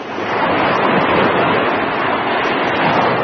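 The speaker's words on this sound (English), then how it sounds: "What we're looking at is waves that throughout the year are always 50 feet tall" Huge ocean waves at Mavericks roll and crash in a continuous loud roar of surf, with wind noise buffeting the microphone and no voices.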